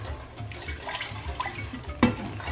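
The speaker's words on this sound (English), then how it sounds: "So I'm going to add a bit of water into it." Water poured into a pot of stew, a short uneven splashing pour with a brief sharper splash near the end, close by and without talk.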